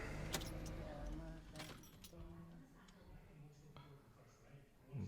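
Car keys jangle near the ignition of a 2014 Citroen Berlingo as it is switched off and back on, a few bright metallic clinks early on, then quieter cabin noise and faint ticking.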